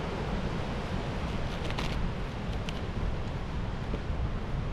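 Steady, loud wind roaring across an exposed hilltop near Ivinghoe, buffeting the microphone with a continuous broadband rush and no talking.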